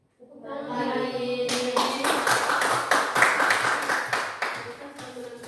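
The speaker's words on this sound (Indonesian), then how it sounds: "Tepuk tangan." A group audience at a school performance claps after a spoken line, brisk irregular clapping that builds and then tapers off over several seconds.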